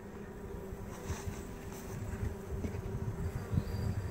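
Honey bees from a swarm hive during a ten-day inspection, a faint steady droning buzz with a sustained hum and scattered louder passes from individual bees close by, no talking.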